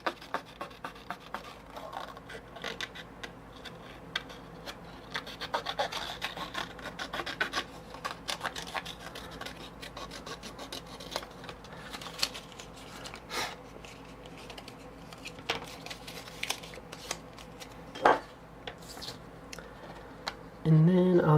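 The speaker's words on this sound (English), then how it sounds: "I'm going to trim off all the excess just so that it's less to manage as I'm cutting" Scissors trim excess paper from around a stamped floral image during card making, giving a steady run of soft rasping snips and rustles close by, with a few sharper clicks and a thump near the end.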